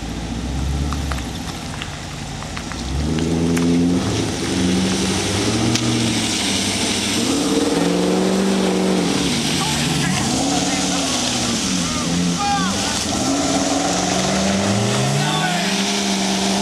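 A big truck's engine revs repeatedly in loud, close surges that rise and fall while it pulls a stuck vehicle free, with people talking over the noise.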